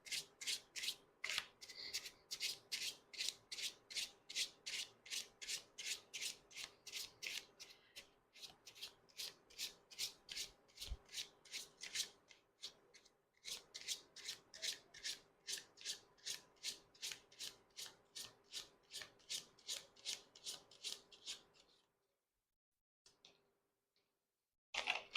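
Tarot cards shuffled and handled in repeated quick riffling bursts, close and crisp, with a brief pause midway and silence near the end.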